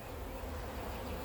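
Honeybees buzzing inside a beehive, a dense continuous drone heard close and loud with no pauses or voices.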